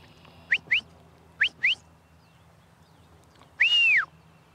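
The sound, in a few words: shepherd's herding whistle command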